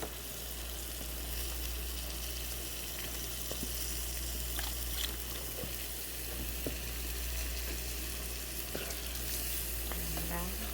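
Milk stirred into creamy chicken and mushroom in a pan, a steady quiet simmer-sizzle with occasional light scrapes and taps of the spoon.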